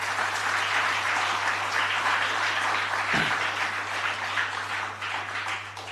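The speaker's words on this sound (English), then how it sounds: "Let us give a round of applause for that." An audience at the Tamil-language launch of the book Exam Warriors gives steady, full applause that carries on evenly for several seconds, with a constant low hum underneath.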